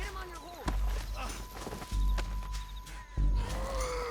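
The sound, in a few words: horse hooves in video game Red Dead Redemption 2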